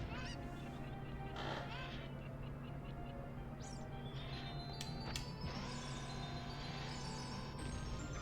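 Bird calls from a chicken in The Legend of Zelda: Ocarina of Time sound several times over a steady, dense game soundtrack and ambience, with no talking.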